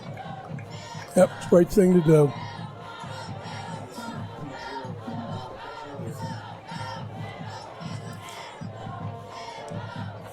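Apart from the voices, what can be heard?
crowd clapping and cheering at high school football game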